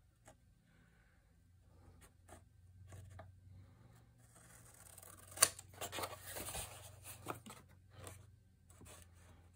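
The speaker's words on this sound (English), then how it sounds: "So I'm going to come in with my scissors." Scissors snip and rub against paper while the corners of a sheet mounted on chipboard are trimmed for an altered-book mini album, quiet close clicks and scraping with a few sharper cuts.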